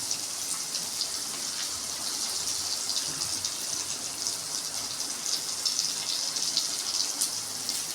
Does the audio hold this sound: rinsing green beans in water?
yes